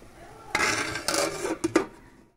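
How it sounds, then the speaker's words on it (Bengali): A metal lid set onto a pan of cooking greens: a few quick clattering knocks and scrapes of metal on metal over about a second, close and fairly loud, then quiet. "এবার আমি ঢাকা দিয়ে দেব।"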